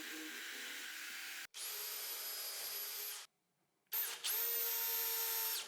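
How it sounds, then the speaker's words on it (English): A power drill whines steadily while boring holes in the tables of a hanging miter saw station, two long bursts separated by short pauses, close and fairly quiet. "Now I'm going to drill all the required holes in the tables."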